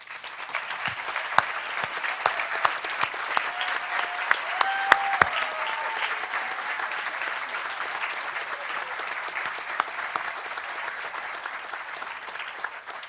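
Steady, fairly distant applause from a commencement crowd greeting honors graduates, continuing evenly for over twelve seconds, with a few sharper nearby claps and a faint voice underneath.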